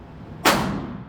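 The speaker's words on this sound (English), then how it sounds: "This is me trying out the AR-15 we rented at the gun range." A single sharp AR-15 rifle shot at an outdoor gun range cracks loudly and decays into a short echoing tail, with quiet ambience before it.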